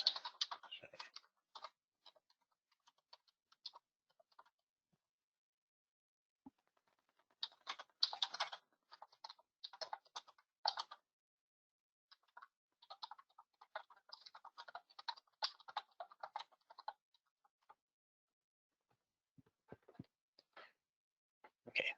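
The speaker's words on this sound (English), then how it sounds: "That's why I shouldn't really be typing when I'm trying to do this." Bursts of quick typing on a computer keyboard, close and fairly quiet, coming in irregular clusters separated by pauses of silence.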